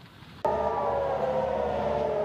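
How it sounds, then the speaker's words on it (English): An air raid siren in Tel Aviv switches on abruptly after a short stretch of low background noise, then holds a loud, steady wailing tone to the end with no speech. "As air raid sirens sound"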